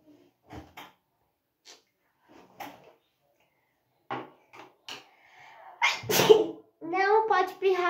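A sneeze bursts out mid-clip during a makeup routine while mascara is being applied, preceded by scattered small clicks and taps of cosmetics and followed by someone talking close up.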